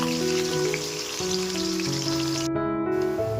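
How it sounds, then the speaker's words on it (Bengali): Onions frying in hot oil for birista crackle in a steady, close sizzle, with sustained musical tones playing underneath. "তেলে পেঁয়াজটা আমরা ছেড়ে দিচ্ছি, দেখতেই পাচ্ছেন বন্ধুরা তেলটা খুব ভালোভাবে গরম হয়ে গেছে"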